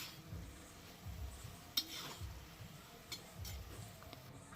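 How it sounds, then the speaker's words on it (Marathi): A spoon scraping and stirring onion chutney with dried bombil fish being sautéed in a pan, soft rhythmic scrapes with a few sharper clinks against the metal, quiet and close. "आता चांगली परतून घ्यायची आहे अशी सर्वीकडनं"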